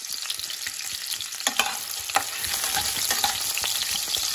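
Large-cut potato chunks frying in hot mustard oil for a Bengali chicken curry, a constant crackling sizzle broken by sharp clacks and scrapes of stirring.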